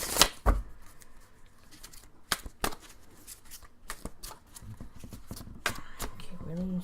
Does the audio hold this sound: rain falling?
no